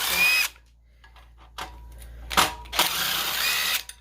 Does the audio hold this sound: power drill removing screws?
yes